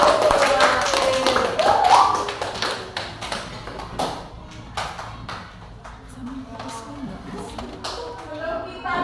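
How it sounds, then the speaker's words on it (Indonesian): A class applauds the last group during a school lesson, with scattered, uneven hand claps and taps that are loudest at first, then thin out, along with some background voices. "berikan tepuk tangan untuk kelompok terakhir"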